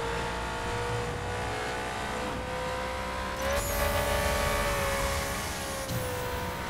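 A Ferrari in the racing video game The Crew drives at speed, a steady high engine whine that climbs with acceleration and shifts pitch at gear changes, loud and constant with no talking.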